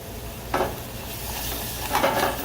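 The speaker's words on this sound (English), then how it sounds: "I'm constantly kind of shaking this pan, I'm stirring it" Spoon stirring and a pan being shaken as wine reduces in risotto, soft scraping bursts at two moments over a steady low sizzle, fairly close and without voices.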